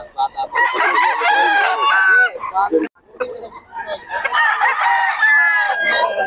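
Chickens and roosters in Bocaue crow loudly and close, with repeated overlapping crows and clucks and a brief gap in the middle, as a voice talks in the background.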